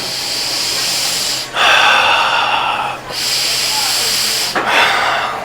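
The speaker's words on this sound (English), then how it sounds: "breathe inward from your nose and outward through your mouth in a repetitive cycle" Exaggerated breathing drawn in through the nose and pushed out through the mouth, three loud, close, airy breaths in a slow repeating cycle, each separated by a brief pause.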